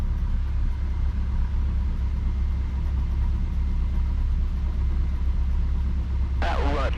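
A small training plane's engine hums steadily as it taxis, a continuous even drone that holds near and constant, with a brief higher whine surfacing at the very end.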